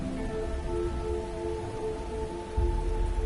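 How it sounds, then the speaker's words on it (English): Soft, steady rain falls in the video game Fantasian Neo Dimension, a continuous hiss under sustained musical tones, with no voices. "At some point, the rain began to fall once more."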